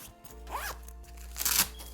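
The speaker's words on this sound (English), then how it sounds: "So you have a zipper" A zipper on a Flashpoint XPLOR 1200 Pro lighting bag rasps open in a couple of quick pulls, close and fairly loud, over a low steady hum.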